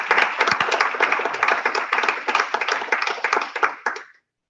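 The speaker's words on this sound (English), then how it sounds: "I think we all need to give her a round of applause for this." A small audience at a Salesforce developer group claps after a talk, a close, crisp patter of individual hand claps for about four seconds before stopping abruptly into silence.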